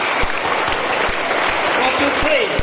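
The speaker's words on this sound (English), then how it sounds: "once more, please give a round of applause." Loud, steady applause from an audience at a school event, dense clapping filling the whole stretch with occasional sharper claps and faint voices mixed underneath.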